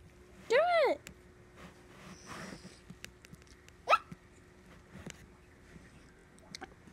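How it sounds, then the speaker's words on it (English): A pet dog burps with an odd, squeaky rising-and-falling tone, followed by a second shorter burp a few seconds later, with people talking softly in between in a quiet room. "That's the weirdest burp I ever seen."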